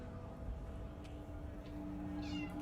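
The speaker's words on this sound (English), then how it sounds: "She was just sitting there meowing." A cat meows softly a few times inside the Disco Elysium video game, faint and intermittent above a low, steady hum of background ambience.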